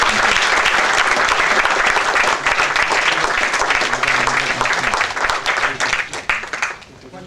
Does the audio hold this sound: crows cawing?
no